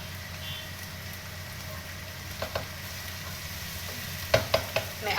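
Cooked rice being stirred into vegetables frying in a pan, a low steady sizzle with a few soft scraping clinks of the spoon near the end.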